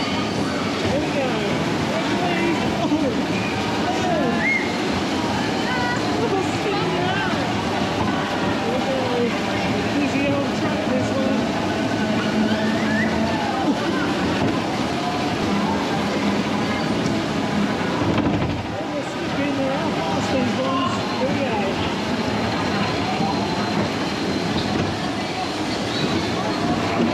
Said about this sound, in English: Right, so we're off on the Dodgems, it's a full load